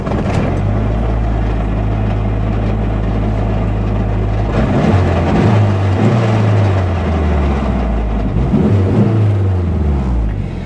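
Inside a Mazda Miata fitted with a dogbox gearbox, a steady loud engine drone fills the cabin while driving, with pitch shifting as the revs change midway. No talking.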